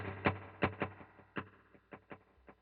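Guitar run through eighth-note and dual delays stacked in series, a few sharp plucked notes spaced out, each trailed by faint smeared repeats, moderately loud with no talking.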